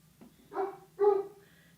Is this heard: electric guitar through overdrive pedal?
no